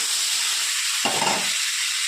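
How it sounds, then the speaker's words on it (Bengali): Vegetables fry in a pan for a thin Khaira fish curry, a steady, loud sizzling hiss with a brief surge of stirring and crackle midway. "সবজিগুলো আমার একটু ভাজা ভাজা হয়ে গেছে"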